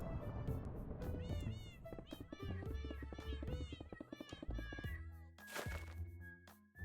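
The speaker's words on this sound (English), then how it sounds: "The meowing is quite a fun effect." Repeated cartoonish cat meows in quick succession in a Hypixel Minecraft minigame, layered over thumping game sounds and music, ending with a sharp burst and a lingering tone.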